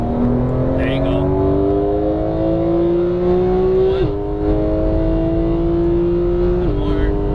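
Porsche 911 GT3 of the 991 generation accelerating on a race track, the engine note climbing steadily through the gears with two brief dips at the shifts, heard from inside the car under an instructor's coaching voice.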